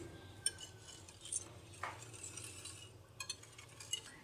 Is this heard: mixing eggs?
yes